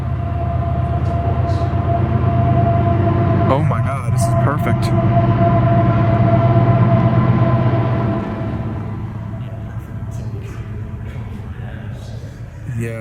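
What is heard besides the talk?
train passing over a tunnel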